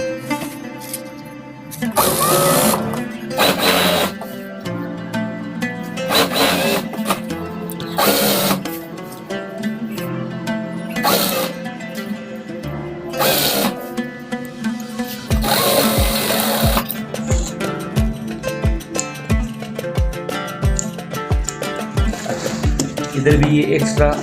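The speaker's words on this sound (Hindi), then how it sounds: "यानी इसके साथ सिलाई करेंगे।" Sewing machine stitching a ring strip and border onto a curtain, running in short bursts of rapid mechanical chatter that start and stop, with a faster steady run near the end.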